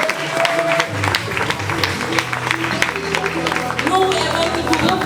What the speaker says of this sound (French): Encore des tonnerres d'applaudissements s'il vous plaît.